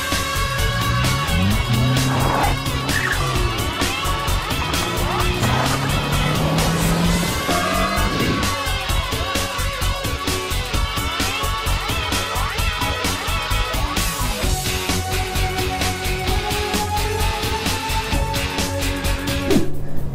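A 1990s Mazda 323F fitted with cut springs is driven hard on a test drive, its engine loud and close, revving up and down through the gears with rising and falling pitch, and no one talks over it.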